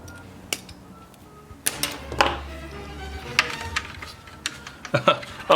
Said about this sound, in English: let's just cut this guy off